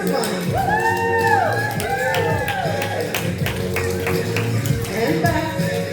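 Clogging dancers perform a demo routine, their tap steps clattering in quick rhythmic bursts under music and a caller's voice.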